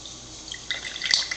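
Water is poured into an Alkastream water filter, heard up close as light dripping and trickling that grows busier and louder partway through, with no talk.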